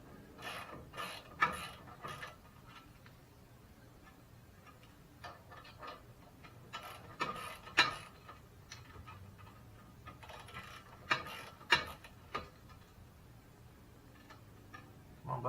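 A ratchet wrench clicks in short, quiet bursts while removing the castle nut on a tie rod of a 1995 Toyota Camry, with gaps of low background hum between the clicking strokes.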